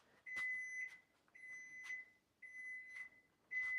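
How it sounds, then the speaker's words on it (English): A kitchen timer beeps in three repeated bursts with a fourth starting at the end, each a steady electronic tone, clear and close in a quiet kitchen while noodles are cooked for lo mein. "Beep, beep, beep."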